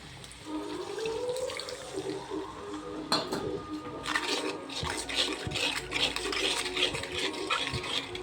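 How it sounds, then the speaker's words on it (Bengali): A little water poured into a pan of spices, chili powder, salt and chopped tomato for a fish curry: a splash and hiss, then clattering of utensils against the pan as stirring continues. "এবার দিয়ে দেবো একটুখানি জল"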